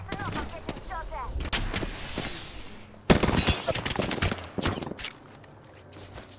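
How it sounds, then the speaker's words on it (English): Gunfire in Apex Legends, sharp shots and bursts from several weapons, one loud close crack midway, mixed with game sounds and brief talk. "Listen up, I'm getting shot at."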